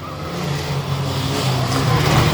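A maroon and black Ford Transit van races in a big-van banger race at Bovingdon Raceway, its engine a loud, steady roar that swells slightly as it passes close by.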